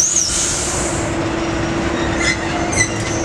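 An SM42 diesel locomotive hauls freight wagons carrying assembled railway turnouts past a switcher at Sędziszów, with a loud steady engine drone, rolling wheel noise and a brief high squeal at the start, close to the listener.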